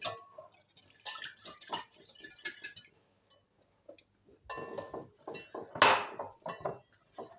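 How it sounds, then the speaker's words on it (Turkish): A spoon stirs batter for KFC-style fried chicken in a bowl, with flour being added, giving close, intermittent scraping and sharp clinks against the bowl, broken by a quiet pause midway before the stirring resumes. "Şöyle karıştırmaya devam ediyorum."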